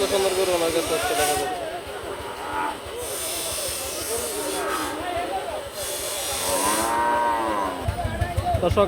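A cow moos several times, long low drawn-out calls over a busy outdoor background with hiss and a few voices nearby, at a cattle market selling cows for Qurbani.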